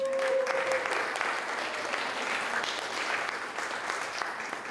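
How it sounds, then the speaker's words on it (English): Audience applause at a civic day gathering on Kaua'i, steady and full from start to finish, a broad wash of many hands clapping at even loudness with a brief tonal hum at the start. "Round of applause."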